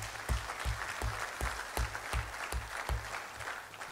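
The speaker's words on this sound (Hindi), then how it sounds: "तालियां बजा दो यार, कमाल है।" An audience applauds at a business event for a chartered accountancy services firm: steady, close, dense clapping with a few sharper individual claps standing out, lasting about four seconds with no talking.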